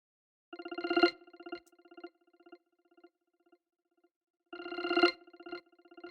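A bright electronic iOS 17 ringtone, Tilt, plays two short bursts of rapid pulsing beeps, each swelling then fading, separated by a quiet pause with faint echoing beeps.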